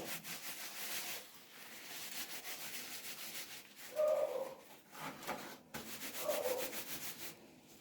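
A bar of homemade soap is rubbed between wet hands to test its foaming, making soft, close squishy rubbing strokes in uneven bursts with brief pauses.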